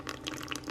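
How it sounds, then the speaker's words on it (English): Melted brown butter being poured into a bowl, a brief soft liquid trickle and splash, faint and close, with no voices. "So I'm going to just pour it in here"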